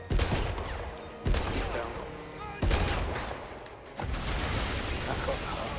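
Heavy gunfire in the James Bond 007 video game: several loud, booming bursts of shots, each with a long echoing rumble, fired in quick succession. Someone speaks briefly over them.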